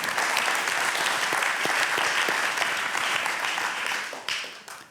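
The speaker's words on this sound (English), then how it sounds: "can I ask you to move to the table and give one more applause for Edwin?" Audience applause for a speaker at a design talks event, dense continuous clapping from a crowd that holds steady and then tapers off toward the end.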